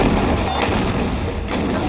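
A 155 mm artillery gun fires, loud and close, with a heavy boom and then sustained rumbling roar. A second sharp blast follows near the end.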